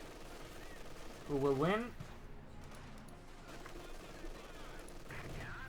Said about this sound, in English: MG42 versus the MG42.